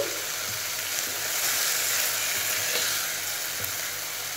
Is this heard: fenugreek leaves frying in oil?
yes